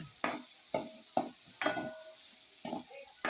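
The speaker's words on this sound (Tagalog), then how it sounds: "Ibigisa mo naman yung bawang sibuyas." Garlic and onion sizzle in a hot pan with repeated sharp scraping stirs, about six strokes spaced unevenly, close up and without talk.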